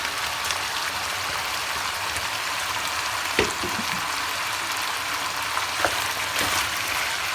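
Steady sizzling and crackling of onions and peppers sautéing in a hot pan, a continuous hiss with a few soft clinks, no voices.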